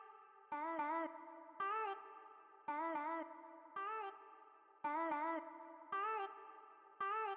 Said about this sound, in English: Now the vocal chops alone sounds like this.